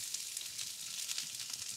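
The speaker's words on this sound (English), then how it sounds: "Caramelize those onions for flavor." Onions caramelizing in a hot pan give a soft, steady sizzle with faint crackles, close but quiet, and no voices over it.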